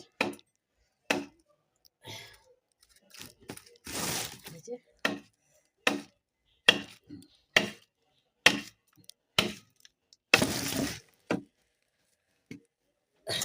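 Firewood being chopped, sharp isolated whacks of a blade splitting wood at irregular intervals of about a second, close and crisp, with a couple of longer cracking, splintering breaks and quiet pauses between strikes.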